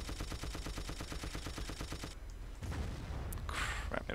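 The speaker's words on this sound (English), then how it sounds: "I can't seem to hit anything with these ridiculously arching shells. They seem to be like low velocity, high explosives." Rapid gunfire and explosions from a tank battle in Battlefield 1942, including low-velocity high-explosive shells, with a steady rhythmic burst of shots for two seconds, then a rumbling blast and further clattering impacts, loud and dense with no talk.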